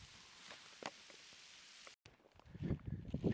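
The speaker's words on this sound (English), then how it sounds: "Rain and sleet." Rain mixed with sleet patters faintly outdoors during a shed hunt in the woods, a soft continuous hiss with scattered light ticks, briefly cutting out before returning slightly louder and closer.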